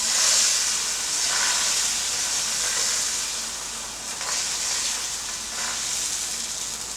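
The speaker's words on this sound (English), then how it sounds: "when you drop the egg in, swirl it around, because you want a nice flat layer" An egg fries in a hot pan for fried rice, giving a steady, close sizzling hiss that holds throughout with slight swells.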